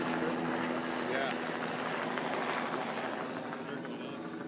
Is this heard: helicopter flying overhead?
yes